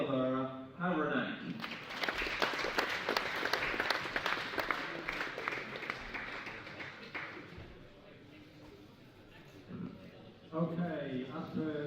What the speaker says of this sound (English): We're looking for a louder clapping from now on.